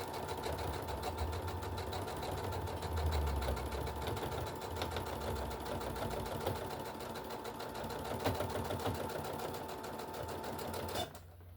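Sewing machine stitching and backstitching: a steady, rapid mechanical whir and needle clatter runs close and continuous, with faint knocks, before stopping abruptly near the end.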